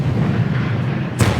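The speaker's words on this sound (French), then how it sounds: "couverts par l'artillerie américaine qui pilonne le sommet depuis des positions situées à 15 km" American artillery shells a mountain summit during a World War II assault, a single heavy boom bursting out suddenly near the end after a steady rumbling background.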